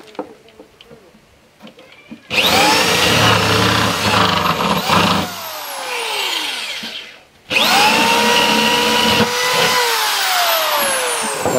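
A power drill bores holes through a pine crate tool chest, two long loud whining runs with pitch shifts as the bit cuts, separated by a brief pause, close to the listener.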